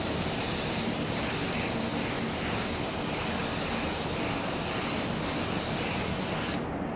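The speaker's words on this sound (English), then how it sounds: "I'm going to put it on and allow it to dry. And the way I like to blend is at a 45." A Harbor Freight Black Widow 2.0 spray gun lays down a coat of paint with a steady, close, continuous hiss that gently pulses, then stops just before the end.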